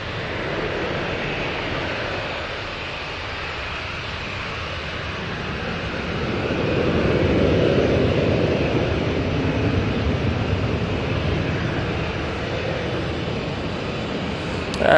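A Ryanair Boeing 737-800 takes off from Manchester Airport, bound for Marrakesh, its steady distant jet roar swelling around the midpoint and then holding, with no voices.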